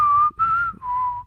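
A person whistles three short, steady notes nearby, clear and loud, with brief gaps between them.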